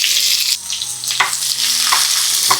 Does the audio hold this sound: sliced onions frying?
yes